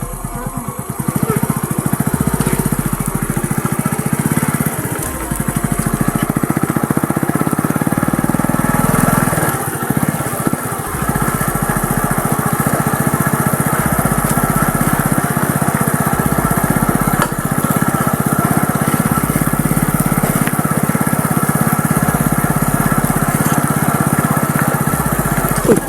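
A motorcycle engine idles steadily with a low, uneven putter, running continuously throughout without revving.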